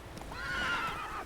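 Roach the horse in The Witcher gives a single close, clear whinny with a rising then falling pitch that lasts about a second, with no talk over it.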